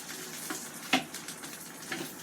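Meat with skin browning and rendering grease in a pan, heard as a faint, steady hiss dotted with small crackles and a few sharper pops.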